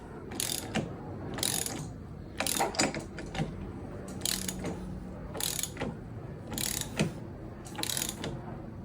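A hand ratchet tool being cranked down during an Indian motorcycle clutch basket replacement gives close, crisp clicking bursts in a steady rhythm of repeated strokes, with short pauses between them.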